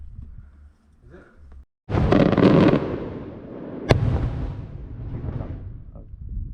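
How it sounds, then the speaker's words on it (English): Fireworks burst in Malta with a loud crackling volley and then a sharp single bang, the explosions and their echoes rolling off nearby rock while people talk. "a load of fireworks just went off"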